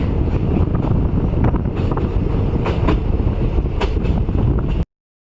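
Loud, rumbling rattle of a moving train at a railway station with clanking wheels and wind buffeting, steady and close, ending in an abrupt cut to silence.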